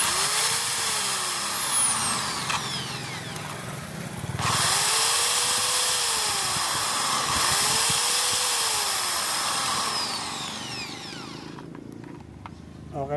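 An electric hand drill runs after new carbon brushes are fitted, its steady motor whine rising and falling through several spin-ups and slowdowns, heard close and alone with no talking.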